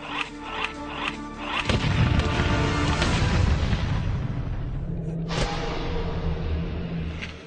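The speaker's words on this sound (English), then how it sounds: "Setting fire to a few ounces of black powder shot a 250-pound anvil 50 feet into the air." A few ounces of black powder ignite under a 250-pound anvil stacked atop another anvil, hurling it 50 feet up. A few ticks come first, then a loud, close blast rolls into a long rumbling roar, with a second thud later.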